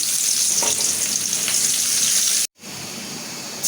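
Onions sizzle steadily in hot oil just used to fry fish, a dense crackling hiss with a brief cut near the end, no voices.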